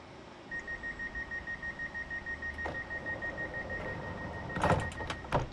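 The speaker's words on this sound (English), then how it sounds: "Didn't wait for the beep." The train doors in Train Simulator 2020 signal with a steady beeping over a rumble of repeating clunks, ending in a few sharp clatters on a Brighton to London Victoria commuter service.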